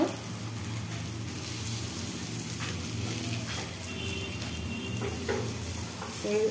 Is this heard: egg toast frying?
yes